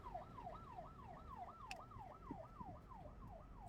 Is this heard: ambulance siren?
yes